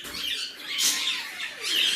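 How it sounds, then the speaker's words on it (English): An Indian ringneck parrot in the next room gives shrill, wavering squawks and screeches, in two or three swells of moderate loudness. "I can hear my Indian ringneck going crazy in the next room."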